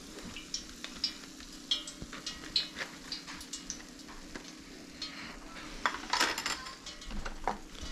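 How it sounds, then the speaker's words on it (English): Crisp, crackly fried tofu pieces for stinky tofu clatter and rustle as they are stirred and moved around, with scattered sharp clicks against a pan or utensil. "You can hear how crispy these are."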